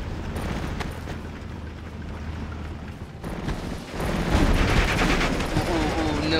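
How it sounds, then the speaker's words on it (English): Dense bursts of video game gunfire in Steel Division Normandy 44 crackle and pop almost continuously, loud and busy, growing heavier toward the end. "gunfire"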